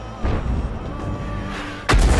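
Heavy tank cannon booms from a tank video game, a deep thud early on and a louder blast near the end over a low rumbling background.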